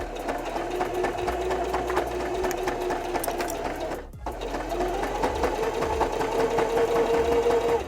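A sewing machine stitching a hand shape in fabric, a steady close mechanical whir with rapid needle ticks, pausing briefly midway for a stop and backstitch before running again.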